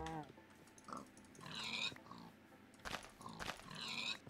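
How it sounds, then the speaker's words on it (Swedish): Pigs oinking in the Minecraft video game, with a few short grunting calls spaced across the clip, fairly clear against a quiet game background. "Och här framme har vi grisar också."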